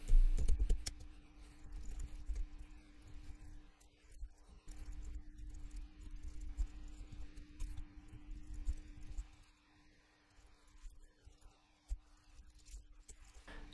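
Soft, irregular keyboard clicks come in quick runs and short pauses as someone types user interface code for a React app, quiet and close with no speech.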